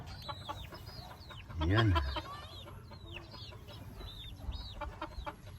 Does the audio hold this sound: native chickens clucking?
yes